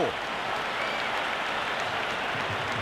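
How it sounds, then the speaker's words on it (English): A stadium crowd in the Cricket 26 video game, at a KKR vs SRH match, applauds and cheers in a dense, steady roar of clapping, loud and continuous, with faint commentary speech underneath. "There's an almost tangible fervour throughout the crowd at the moment."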